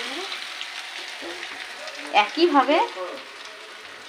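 Semolina snacks crackle and sizzle in oil in a frying pan, a soft continuous hiss, while a voice speaks briefly near the middle.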